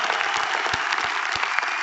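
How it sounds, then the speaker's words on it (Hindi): Loud, dense applause from a large audience at a gathering honoring leaders, continuous clapping with a few sharper claps standing out over the steady roar. "तो सबसे पहले मैं एक बार जोरदार तालियां चाहता हूं उन लीडर्स के लिए"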